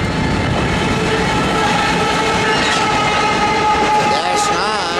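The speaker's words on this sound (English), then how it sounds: "coming east on the V line is going to be some sort of loaded coal train" A loaded Norfolk Southern coal train with gondolas passes close by, led by a Dash 9 locomotive running long hood forward, with a loud steady rumble and clatter of railcars and faint whistle-like tones toward the end.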